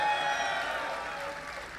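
A crowd of spectators cheers and applauds at an IPL 3 StarCraft championship match, a fairly faint, steady roar that tapers off slightly toward the end.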